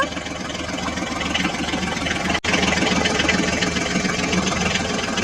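A truck engine runs steadily as it drives on, with a continuous mid-to-low rumble and a brief dropout partway through, loud and close with no talking.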